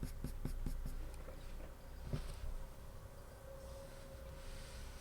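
Colored pencil strokes on paper while drawing a cat's eye fur, a few quick scratchy strokes in a row, then softer sparse scratching, close and quiet.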